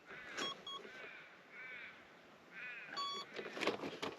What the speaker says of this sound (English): That was the priming noise. You heard 2 beeps,